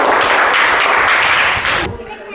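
Classroom applause for a student breaks out, a dense burst of many small hands clapping loudly and steadily for almost two seconds before cutting off abruptly.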